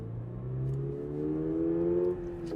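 A 2.4-liter Subaru boxer four-cylinder in a BRZ tS tuned by STI revs steadily and close, its buzzy note climbing in pitch over a couple of seconds with no one talking.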